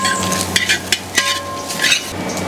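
Whole spices such as cinnamon, cloves, cardamom and star anise crackle and sizzle in hot coconut oil for a Kochi-style Boti curry, with a steady frying hiss punctuated by quick stirring clicks and pops.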